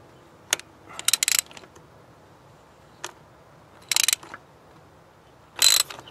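Ratchet wrench fitted with an extension unscrewing a spark plug on a Volkswagen Polo engine, giving several short bursts of close, crisp clicking separated by pauses, each burst a quick run of ratcheting ticks.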